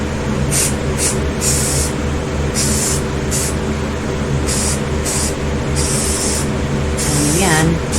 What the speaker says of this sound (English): those designs I'm working on that I just sprayed with workable fixative